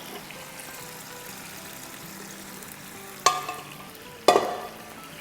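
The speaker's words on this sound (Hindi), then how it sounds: "तो बस अब इस पॉइंट पर हम यखनी जो है डाल देंगे इसमें।" Yakhni stock is poured into mutton pulao frying in a pot: a steady low sizzle, then two sharp, loud bursts of hissing splatter about a second apart that fade back into bubbling.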